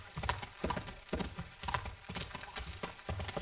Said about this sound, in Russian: Лошади поскачу.